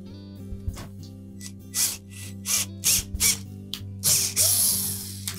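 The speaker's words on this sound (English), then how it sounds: "you run the screws into the 2 existing holes in that new hinge because they're not pre-threaded" Screws are driven by hand into the unthreaded holes of a new Whirlpool range oven hinge. The screws cut their own thread in a series of short, scraping, ratchet-like bursts over a low steady hum.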